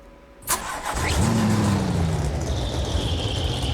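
In the BeamNG driving game a car engine cranks and catches with a sudden burst, revs briefly, then settles into a steady loud idle hum that carries on to the end, with no talking.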